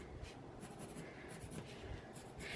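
Pencil drawing freehand stars on felt for a patriotic Fourth of July top hat: continuous soft scratchy strokes, close and steady, with brief pauses between lines and no talking.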